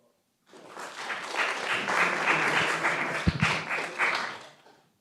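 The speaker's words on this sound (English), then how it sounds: "Another round of applause." Applause from an audience at a county board of commissioners meeting starts abruptly and carries on steadily for several seconds, a dense patter of clapping hands that fades out at the end.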